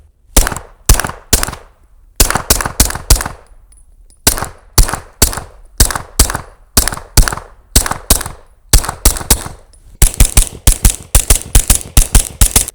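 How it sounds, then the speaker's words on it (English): A Gen 6 Glock pistol fitted with a Gen 5 barrel fires loud, sharp single shots in a steady string, ending in a rapid cluster of closely spaced shots, with no talking. "put a Gen 5 barrel in your Glock and shoot it"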